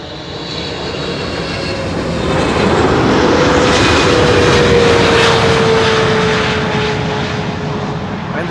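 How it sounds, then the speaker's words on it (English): A KLM airliner arriving from Lima lands at Schiphol's Kaagbaan runway, its engines building to a loud, sustained roar with a gliding tonal whine as it passes close by. "This is KLM flight 744 arriving from Lima in Peru"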